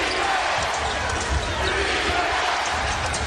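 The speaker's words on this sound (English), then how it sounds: "Crowd wants defense." A basketball arena crowd during a Warriors vs Rockets game, a loud sustained roar of many voices chanting for defense with rhythmic thumping and stomping underneath.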